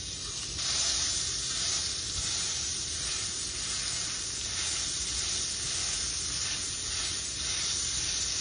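Meat and a tortilla sizzle steadily in a lightly oiled pan for smashed tacos, a constant bright crackling hiss at moderate volume with no voices.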